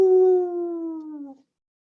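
A person imitates a dog's bark or howl with one sustained, wavering vocal howl lasting just over a second that slides slightly downward and cuts off into silence, close and loud.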